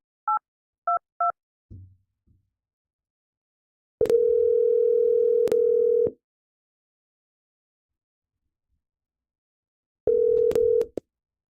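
Three short touch-tone beeps on a telephone keypad, followed by a brief thud, then a steady dial tone held for about two seconds, silence, and the tone returning near the end.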